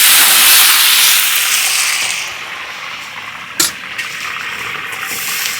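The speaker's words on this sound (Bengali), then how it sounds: "কড়াইতে তেল গরম হয়ে গেছে, দিয়ে দেবো আলু।" Potatoes hit hot oil in a kadai and fry with a loud, steady sizzling hiss that gradually settles, with a brief clatter partway through.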